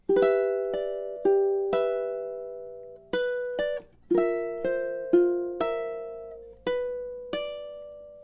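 Ukulele plays the verse opening of a song, measures 8 and 9, with a steady run of plucked notes that ring and decay, close and clear with no voices.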